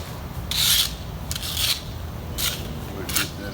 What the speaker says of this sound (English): Go ahead and rake all that out of there.